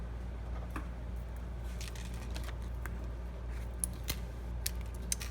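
Scissors cut a foam adhesive strip for a handmade card: a few quiet, crisp snips near the end over a soft, steady room hiss.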